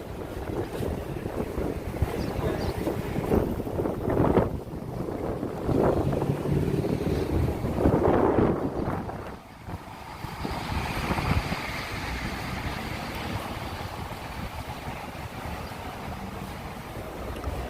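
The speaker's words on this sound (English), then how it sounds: "Yeah, it's a little windy" Strong wind buffets the microphone on Walker Street in New York City in a steady roar with gusty surges, a continuous rushing noise and no voices.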